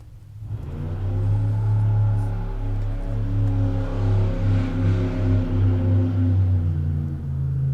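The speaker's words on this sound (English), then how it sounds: "somebody just slowed down, did a burnout outside our house" A car slows and does a burnout on the street outside a house, giving a loud, sustained engine roar and rumble with rising revs that holds steady for several seconds, with no talking.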